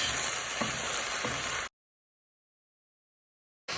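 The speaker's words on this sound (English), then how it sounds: "You want to stir it all the way round, and don't forget to get to the bottom and your sides" Curry spaghetti bolognese sauce hisses and sizzles steadily in a pan while being stirred, with a couple of soft scrapes, before the sound drops out abruptly into silence and returns briefly at the end.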